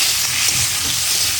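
Leafy greens frying in oil in a home kitchen pan give a steady, close, even sizzling hiss that carries through the whole short moment without pause.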